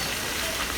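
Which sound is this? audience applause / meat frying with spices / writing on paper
meat frying with spices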